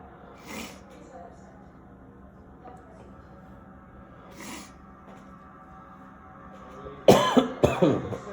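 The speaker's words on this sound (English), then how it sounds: "I'm sorry for the cough." A few muffled coughs are spaced out under quiet background noise, then a louder burst of close, harsh coughing near the end.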